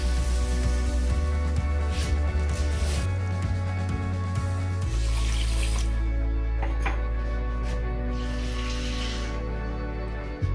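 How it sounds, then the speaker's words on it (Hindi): Water poured into a pan for sugar syrup on the stove, a steady splashing and sizzling rush at moderate level that shifts in tone as the pan fills. "डेढ़ कप पानी डाला है मैंने।"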